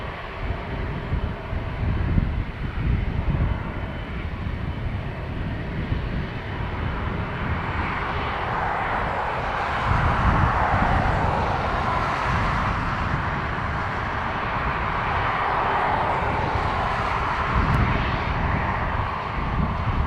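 An airliner powered by Rolls-Royce Trent 700 engines roars at Dublin Airport, a broad continuous jet rumble that holds steady and swells slightly in the second half, heard alone with no voices.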